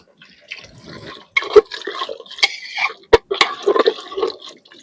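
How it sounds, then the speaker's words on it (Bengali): Water is poured into a pot of vegetables for sambar on a clay stove. It makes close, uneven splashing and gurgling, with a few sharp knocks between pours. "আর সিদ্ধর জন্য আমি দিয়ে দেবো জল"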